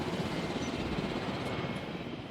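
Transport helicopter in the Jurassic World Evolution video game, a steady broadband rotor and engine rumble holding at constant loudness throughout, with no voices.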